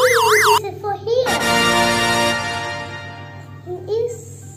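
A voice imitates a police car siren with a rising and falling 'wee' wail, preceded by a brief warbling siren-like tone, in a kindergarten activity with a voice also present.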